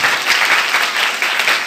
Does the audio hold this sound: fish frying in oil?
no